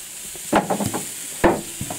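Tomatoes for ratatouille are tossed onto a hot plancha, giving short bursts of sizzling and scraping stirs that stand out from a quiet background and leave gaps between them.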